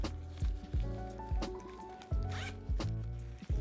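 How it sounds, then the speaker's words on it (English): A zipper on a small ultralight packing cube from a Peak Design Out Door 45L backpack kit, drawn in several quick, close, crisp zips with short pauses between strokes. "Has a zip"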